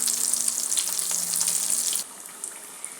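Jackfruit seed bondas frying in oil over a low flame make a steady, bright sizzling hiss for about two seconds, then drop to a much quieter sizzle.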